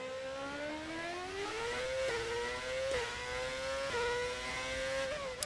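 A modded V8 engine sound pack in an F1 racing game, a loud, steady engine whine whose harmonic pitch climbs and steps up with each gear change, running continuously without talk.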